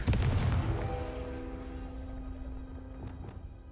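A Confringo blasting curse explodes in the video game Hogwarts Legacy, a single sharp, heavy blast up front that rings out with a resonant, fading tone, followed by a couple of faint later pops.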